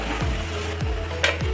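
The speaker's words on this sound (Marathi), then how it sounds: "जिरा आणि मोहरी चांगलं तळतळल्यानंतर मी याच्यात टाकणार आहे कांदा" Constant sizzle of onion frying in oil with cumin and mustard seeds for a Maharashtrian pithla, with a spoon scraping and stirring the pan in a steady repeating rhythm, close and fairly loud, with no talk.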